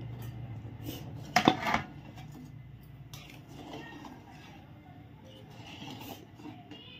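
Eggs are stirred in a pot for an egg and soybean biryani: a short burst of metal spoon clanks against the pot, then quieter scraping and bubbling, with some faint speech.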